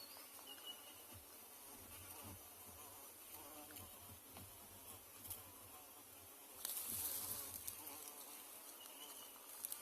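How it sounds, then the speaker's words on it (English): Large carpenter bees buzz outdoors in a steady, low droning hum over a hissy background, the buzzing swelling closer for a moment near the end. "it's beautiful, especially the sound of that bees. It's very huge sounds because big carpenter bee usually"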